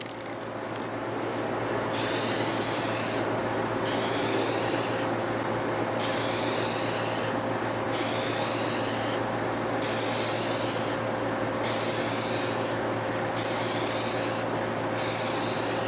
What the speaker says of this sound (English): I'm going to spray on this side so the mist goes that way.